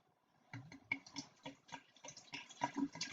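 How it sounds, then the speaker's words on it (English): White wine poured into a pitcher for peach sangria: a close, gurgling stream of liquid with uneven glugs and splashes that starts after a short quiet moment and runs to the end. "we're going to add our wine to it"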